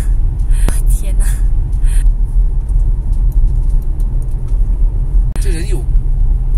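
A steady, heavy road rumble fills the cabin as a car overtakes inside an unlit tunnel. The droning noise stays constant throughout, with brief voices near the end.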